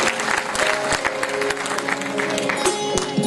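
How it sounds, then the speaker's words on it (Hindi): Lively audience applause at a devotional bhajan singing event as a female singer from Pune is welcomed, dense clapping with sharp individual claps over a faint sustained tone, fairly close and continuous. "जोरदार तालियों से मनाली का स्वागत"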